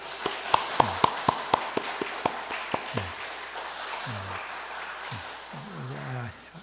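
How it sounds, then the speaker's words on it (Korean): Scattered hand claps from a church congregation at an Easter service, a dozen or so in a loose rhythm, then fading out as a few voices murmur in the room. "우리 한번 박수하겠습니다."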